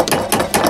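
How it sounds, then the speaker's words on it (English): Three sharp metal hammer strikes on a Jeep Cherokee XJ door hinge pin in quick succession, close and loud, with short ringing after each. "Let's hammer that pin in."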